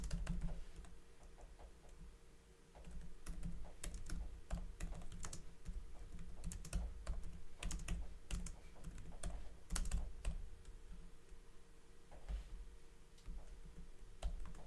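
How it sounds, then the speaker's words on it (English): Fingers type on a computer keyboard in quick irregular bursts of crisp clicks, with brief pauses between runs, close and fairly quiet over a faint steady background hum, no talking. "Jeff cannot hear, so I'm typing for Jeff"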